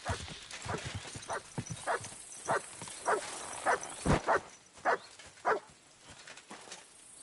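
Dog barking in the medieval video game Kingdom Come: Deliverance 2, a series of about ten sharp, evenly spaced barks of moderate loudness over a faint ambient background.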